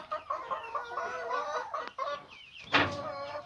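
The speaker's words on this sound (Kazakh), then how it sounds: "Амурокс тауықтары." Amurox chickens in a coop cluck steadily up close, with a sharp squawk near the end and no talking.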